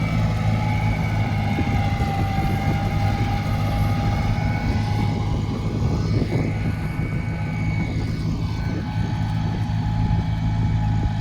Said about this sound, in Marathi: एकदम छोटा ट्रॅक्टर आहे.